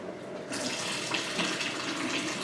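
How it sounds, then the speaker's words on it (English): Cold water from a kitchen tap starts abruptly and runs steadily over a container of freshly cooked pasta, a loud, close, continuous splashing rush with slight bubbling, no talking. "just put the container on top of it rather and run the cold water in on top of it"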